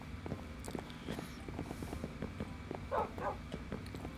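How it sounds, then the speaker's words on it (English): Dogs in the video game Minecraft give soft, short yips and barks among light game sounds and footsteps, steady and fairly quiet with no speech over them. "Some more puppy dogs."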